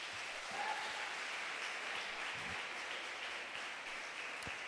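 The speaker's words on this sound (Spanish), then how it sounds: "Dale un aplauso a Jesús." Sustained applause from a church congregation after a sermon, a steady dense wash of many hands clapping at an even level for the whole stretch, with no talking over it.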